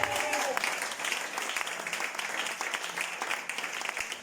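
A church congregation applauds for the Lord with sustained, fairly dense clapping from a crowd, continuous for the whole stretch at moderate level.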